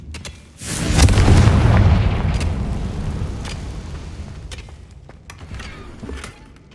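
Confringo fire spell blast in the game Hogwarts Legacy: a sharp onset swelling into a loud, deep rumbling explosion that slowly decays, with scattered crackles and small pops trailing after.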